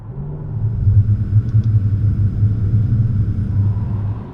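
A Jaguar XK8 engine rumbles steadily from inside the car on a country road between Charing and Chilham as the driver drops into second gear, a low continuous drone with slight swells and no talk.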